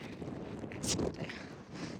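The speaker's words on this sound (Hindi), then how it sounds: "ये देखो कितनी हवा चल रही है" Strong wind blowing outdoors in Canada, a broad, steady rushing rumble buffeting the microphone, with a brief louder gust midway.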